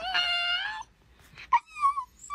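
A Shiba Inu dog makes a drawn-out, whining, talk-like vocal sound instead of barking, close to the microphone, followed by shorter squeaky yelps.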